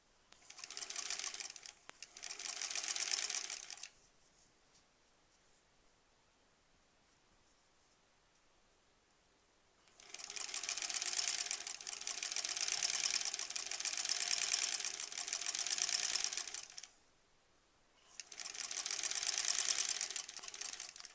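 A sewing machine stitches quilt block pieces together in three long runs of steady, whirring stitching separated by quiet pauses, close up and with no talk.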